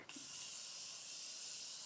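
Morphe Continuous Setting Spray mists out in one steady, close, airy hiss that lasts nearly two seconds, with no voice over it.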